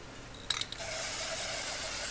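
Black spray paint hisses from a can onto a painting to form a tree, a couple of short puffs followed by a steady, continuous spray close by.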